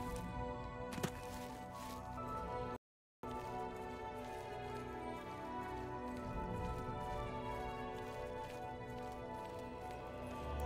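Horse hooves clopping at a walk in the video game Oblivion, a steady soft rhythm under ambient game music.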